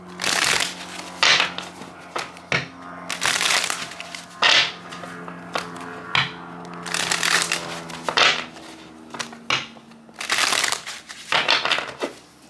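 A deck of tarot cards being shuffled by hand during a reading, with repeated bursts of riffling and card slaps in short clusters over a steady low hum, close and fairly loud.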